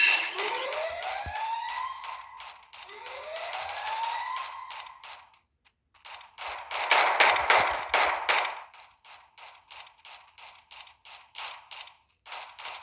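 Video game gunfire in rapid automatic bursts, loud and close, mixed with rising siren-like electronic sweeps and short pauses between volleys, with no talking.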